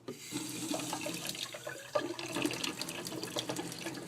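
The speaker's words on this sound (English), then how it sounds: "You need to start by filling the cylinder about halfway with water." Tap water pours steadily into a graduated laboratory cylinder, a continuous splashing, filling sound that holds close and moderately loud throughout, with no voices.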